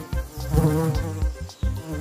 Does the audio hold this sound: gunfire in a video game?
no